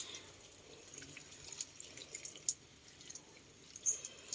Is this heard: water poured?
yes